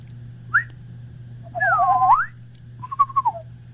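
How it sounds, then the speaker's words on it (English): A person whistles a few short melodic phrases: a brief rising chirp, a longer wavering swoop, then a quick fluttering run, clear and close over a faint steady hum, with no talking. "I can whistle pretty well."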